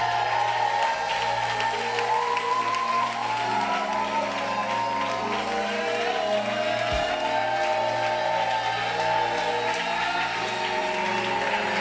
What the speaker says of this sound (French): Les acclamations ont la capacité de changer l'atmosphère.